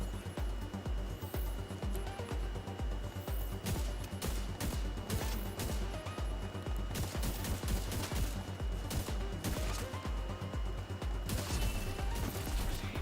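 Constant gunfire in the video game The Division 2, with rapid repeated shots and bursts running without a break at close range and steady volume, backed by crashes and mechanical clatter.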